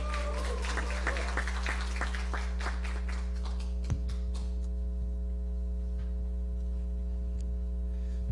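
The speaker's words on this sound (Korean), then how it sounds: "큰 박수로 맞이해 주세요." Audience applause at a government 3.0 program competition welcomes the next presenter, a dense clapping crowd over steady mains hum for the first four seconds, then fading to hum and scattered ticks.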